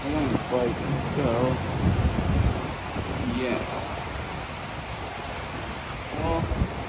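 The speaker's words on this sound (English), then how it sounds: "it's absolutely pouring outside right now." Heavy rain pours outside in a steady, loud wash of noise, with voices talking over it throughout.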